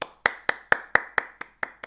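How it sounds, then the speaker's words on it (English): Eight evenly spaced sharp claps ring out alone at a brisk, steady rhythm, close and moderately loud, as a short round of applause for a player named Nico at a weekly competitive Pokémon game event. "an applause to Nico"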